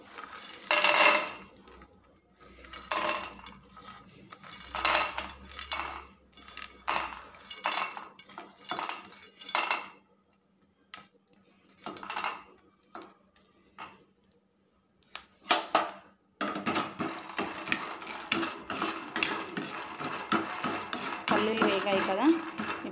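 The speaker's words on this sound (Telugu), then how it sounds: "ప్యాన్ హీట్ ఎక్కింది కదా ఇప్పుడు పల్లీలు వేయించుకుందాం" Peanuts roast in a hot pan, rattling and scraping in intermittent bursts as they are stirred, then settling into a denser, continuous dry clatter toward the end.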